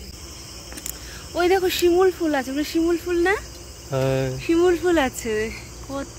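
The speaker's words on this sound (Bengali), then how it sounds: "আর ঝিঝি পোকার ডাক" Crickets chirp steadily in a dense forest, a continuous high insect trill running through the whole scene while two people talk at close range over it.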